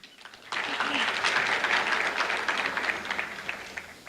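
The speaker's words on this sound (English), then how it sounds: "Let us give one final round of applause for all our speakers as well" After a short quiet lead-in, a room full of conference attendees breaks into warm applause for the speakers and partners, many hands clapping close and steady before slowly thinning toward the end.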